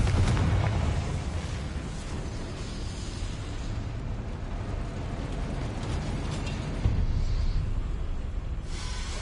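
A Confringo fire spell blasts in Hogwarts Legacy, a dense rumbling explosion roaring loud and continuous through the whole stretch, with a second burst swelling near the end.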